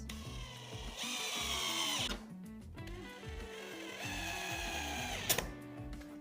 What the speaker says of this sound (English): Gonna do 2 pilot holes. And then screw these into place.